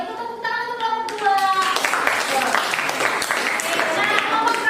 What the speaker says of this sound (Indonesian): kalau itu tepuk tangan untuk kelompok 2.